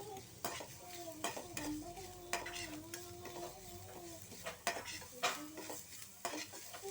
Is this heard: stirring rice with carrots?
yes